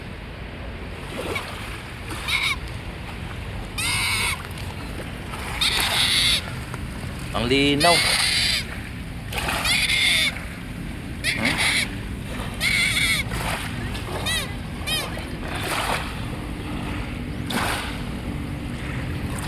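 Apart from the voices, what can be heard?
waves lapping on the shore of Manila Bay Dolomite beach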